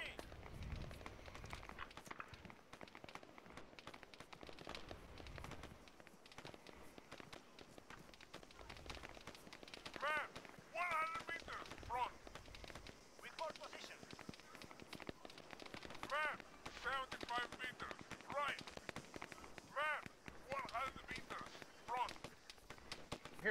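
Gunfire in the ARMA 3 co-op military shooter, scattered bursts and single shots at varying distances, recurring through a dense in-game battle soundscape with players talking over it.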